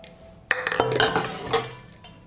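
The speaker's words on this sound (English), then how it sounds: "And I put the jars in the pot." Glass jars set down into a cloth-lined saucepan, a sharp clink followed by a cluster of knocks and rattling chinks of glass against metal, close and fairly loud.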